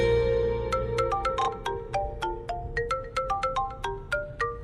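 A melodic phone ringtone plays a repeating sequence of bright, plucked notes in a quick rhythm, clear and close, over a low background hum.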